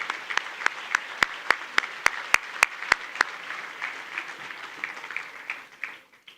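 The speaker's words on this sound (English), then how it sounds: "Once again, a round of applause for our state championship coaches." Audience applause for state championship high school football coaches at a Texas hall of fame induction ceremony, a dense crowd of clapping with a few sharp, regular claps standing out early before fading toward the end.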